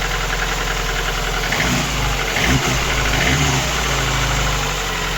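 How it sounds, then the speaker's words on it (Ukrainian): A VAZ 2109 with a 1.6 engine runs at idle nearby, a steady low drone with a faint light rattle from the pistons and a brief rise in revs midway, no voices. "О, поршеньки гремлять наші."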